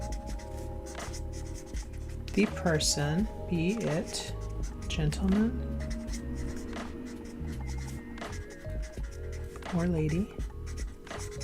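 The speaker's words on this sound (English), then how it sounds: "So I'm going to write the quote down here" A pen scratches across paper as a quote is written out by hand, continuous light scraping strokes close up beneath a voice speaking throughout.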